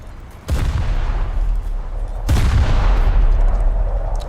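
Two heavy naval gun salvos boom out in a video game boat battle, the first near the start and the second about two seconds later, each a loud deep blast trailing into a long rumbling roar.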